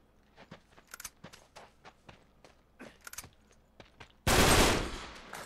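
Gunfire in the Uncharted 3: Drake's Deception Remastered video game on PS4, scattered sharp shots and short bursts echoing at moderate distance, ending in a sudden loud, sustained blast of noise.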